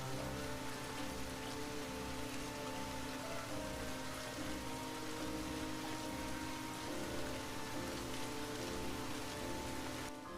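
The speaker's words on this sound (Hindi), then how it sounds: "अगली सुबह बारिश थमी नहीं थी।" Steady, dense rain falls continuously, a soft even hiss of drops on a surface with no voices and no breaks.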